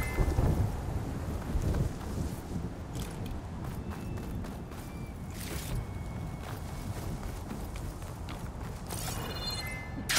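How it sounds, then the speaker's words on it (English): A thunderstorm in the video game Horizon Forbidden West: steady heavy rain with deep rolling thunder, loud and continuous, with no talking. "There's a storm."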